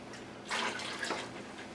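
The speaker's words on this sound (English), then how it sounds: "you can pour this water back in from the pot" Water is poured from a pot back into a canning pot of pumpkin pickle jars, a brief, soft splash lasting under a second in an otherwise quiet room.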